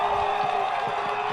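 A stadium crowd cheering a stoppage-time winning goal at a Chattanooga Red Wolves soccer match, a steady broad roar held throughout with scattered shouts inside it.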